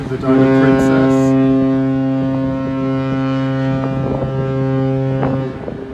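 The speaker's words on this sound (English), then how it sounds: "Hooting a farewell as we leave New Zealand." A cruise ship's deep horn hoots a farewell while leaving New Zealand, a loud sustained tonal blast with harmonics that holds for several seconds over wind buffeting the microphone.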